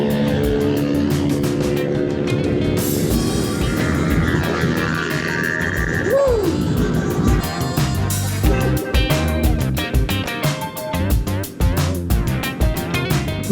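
A vehicle overtaking on a road during a group ride in Padre Burgos, Quezon, with a loud engine roar rising and sweeping past close by, mixed with other traffic noise and continuous wind rush.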